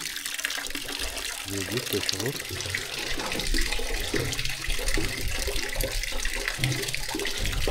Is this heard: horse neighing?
no